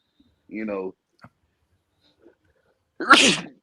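A single sharp human sneeze bursts out close and loud near the end, after a short voiced sound, with near silence between.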